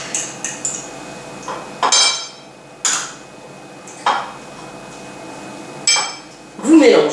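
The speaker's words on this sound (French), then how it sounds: "Vous mélangez à la fourchette ou au doigt" A fork clinks and scrapes against a dish while steamed leftover fish is mixed with herbs like coriander, mint and basil: sharp, close metallic taps spaced irregularly, with a louder clatter near the end.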